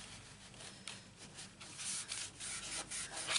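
Folded paper being rubbed by hand to press a craft fold together, giving soft, close scratchy strokes in a quick repeating rhythm, quiet and with no talk.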